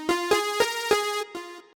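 A pitched synth one-shot sample from Cymatics, played as a short repeating pattern of five tonal hits with sharp attacks and a sustained buzzy tone, clean and close, no voice.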